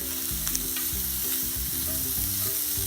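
Pork belly sizzles loudly in a pan while a wooden spoon stirs it in quick, repeated scraping strokes over the constant frying hiss.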